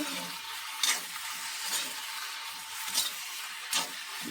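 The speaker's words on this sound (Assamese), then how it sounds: "কেৰাহীত লাগি ধৰালৈকে অলপ দেৰি ভাজি ল'ব দেই।" Pigeon meat sizzles steadily in a wok, with a few brief scraping stirs breaking through the constant hiss.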